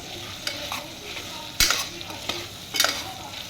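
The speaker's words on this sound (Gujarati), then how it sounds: "આપણે સરખી રીતે મિક્સ કરી દઈશું." A spoon scrapes and stirs through fried rice with chili in a sizzling pan, a steady hiss broken by a few sharp metallic scraping strokes, close and fairly loud.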